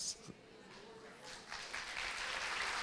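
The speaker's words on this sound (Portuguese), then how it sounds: "Se é para aplaudir, faça com todas as suas forças." A church congregation applauds, a soft, somewhat distant clapping that builds and thickens over a few seconds while a voice speaks faintly underneath.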